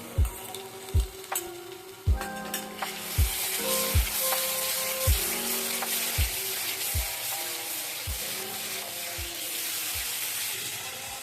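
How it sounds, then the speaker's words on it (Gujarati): Yogurt stirred into a sizzling kofta gravy for jamun kofta, with a steady frying hiss and a regular series of spoon knocks against the pan, roughly one per second, throughout. "હવે આપણે આમાં દહીં નાખીશું."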